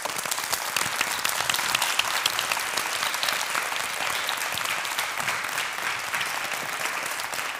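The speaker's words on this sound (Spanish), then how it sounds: "Un aplauso muy fuerte" Studio audience at a television program applauding as a guest enters, a dense and sustained burst of many hands clapping, loud and steady throughout with no voices over it.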